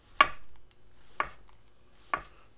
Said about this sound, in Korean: 그리고 적당한 두께로 이렇게 편 썰어주세요